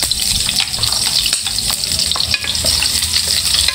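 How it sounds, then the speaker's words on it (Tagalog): Ingredients sautéing in hot cooking oil for Bisaya-style ginamay, a loud continuous sizzle with stirring scrapes and clatter, close and unbroken. "At ngayon, magpainit na tayo ng mantika. At mag-umpisa na tayo maggisa."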